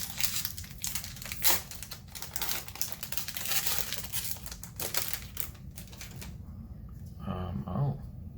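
A foil M21 booster pack wrapper is torn open, giving a sustained, close crinkling and crackling of foil with brief sharp tearing bursts, and faint talking mixed in.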